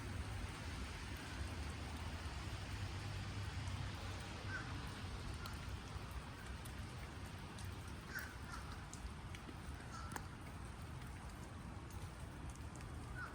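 Steady rain falls on a cold, grey morning outdoors, a constant soft hiss with scattered drops, while crows caw now and then in the distance.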